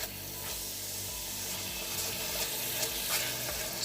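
Ombidi, a Namibian greens dish, sizzles steadily in a pot as it is stirred, a close, continuous hiss with occasional soft scrapes and no talking.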